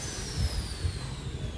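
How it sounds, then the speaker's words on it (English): A steady low rumble and whir of construction machinery next door carries on continuously, with a faint high whine above it, heard through a wall in Kathu, Phuket. "Sorry about the construction noise, as next door is still"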